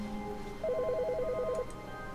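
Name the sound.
phone ringing in video game The Stanley Parable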